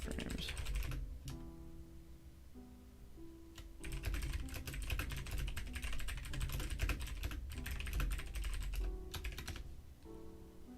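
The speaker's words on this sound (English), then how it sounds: "machine gun typing over" Fast, dense typing on a computer keyboard clatters in bursts with a few short pauses, close and fairly quiet over faint background hum.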